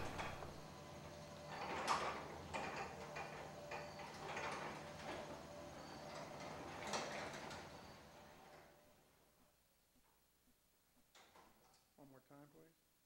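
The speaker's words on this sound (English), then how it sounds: "And now listen to the difference with the Herman Silent Drive." A quiet Herman Silent Drive door motor runs with soft sliding and mechanical rumbles, gentle and close, that fade out partway through, leaving near silence with a few faint clicks.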